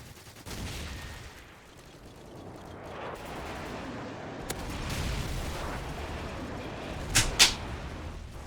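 Explosions and gunfire from an airstrike in an Xbox 360 video game, with a rumbling barrage that swells and fades, then two sharp, loud blasts near the end.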